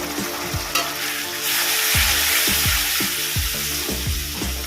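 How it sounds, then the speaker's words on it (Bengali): A paste of cumin, coriander, turmeric and chili powder, loosened with a little water, fries steadily in a pan for a katla fish curry, giving a continuous sizzle broken by repeated stirring scrapes over background music. "মশলাটা একটু কষিয়ে নেব"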